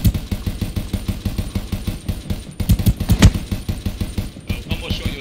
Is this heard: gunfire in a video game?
yes